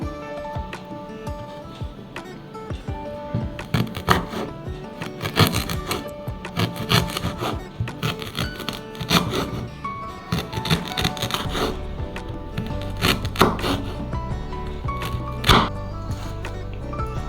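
Ginger being sliced with a knife on a board while making detox water with lemon, a run of repeated close chopping and knocking strikes with some rubbing between them.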